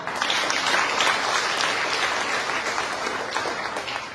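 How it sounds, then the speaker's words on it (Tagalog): Applause at a 19th anniversary celebration, a full room clapping steadily and loudly throughout, slowly thinning toward the end. "Palakpak."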